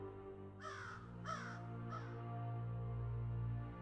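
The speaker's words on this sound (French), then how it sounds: "Le cri d'un corbeau te fait revenir sur le mur." A crow gives three harsh caws in quick succession, the last one weaker, over a sustained low musical drone that continues after the calls stop.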